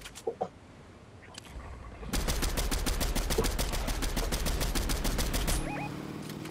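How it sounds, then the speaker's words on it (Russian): Sustained rapid automatic gunfire from other players in Fortnite, starting abruptly after a few scattered shots and rattling loudly for several seconds at an even, fast rhythm before cutting off. "Оттуда стреляют люди."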